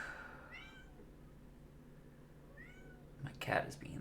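A house cat meows twice, fairly faint and a few seconds apart, over a low steady room hum, followed by a brief louder knock or rustle.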